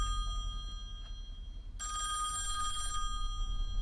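A telephone bell ringing in the horror video game Song of Horror: a quiet chime at first, then a louder burst of bright, buzzing rings lasting about a second over a low background hum.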